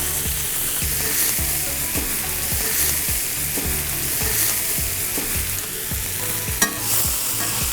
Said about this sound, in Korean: 지금 여기에다 양파를 같이 넣을게요